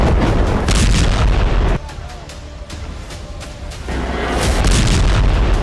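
Israeli bombardment in Gaza: loud, heavy booms and rumbling blasts fill the opening and closing stretches, with a quieter lull in between and a voice talking over it.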